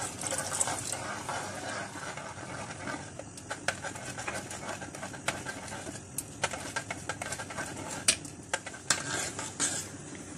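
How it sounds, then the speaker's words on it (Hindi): A spoon stirs dissolved custard into hot milk in a pan, giving a close run of light clicks and scrapes against the metal over a soft steady hiss, with no talking. "इस गर्म दूध के अंदर ये थोड़ा थोड़ा कस्टर्ड जो हमने डिजॉल्व किया है इसके अंदर डालेंगे और साथ साथ मैं चम्मच इसका हिलाती रहूंगी।"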